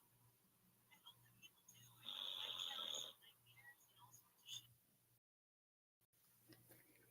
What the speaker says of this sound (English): You hear her snoring?